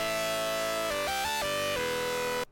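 A dry FM synth bass with all effects turned off plays a sustained, buzzy, harmonically rich note, jumping through a short pitch pattern midway before settling back and cutting off abruptly, in the style of a drum and bass remix.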